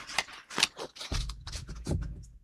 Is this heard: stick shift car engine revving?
no